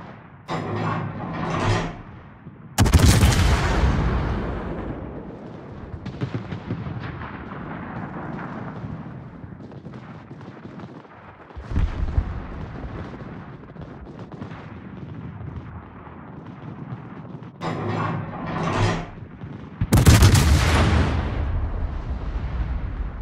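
Warship guns fire in the naval combat game World of Warships, with heavy booming salvos arriving in separate loud bursts, each trailing off into a rumbling decay.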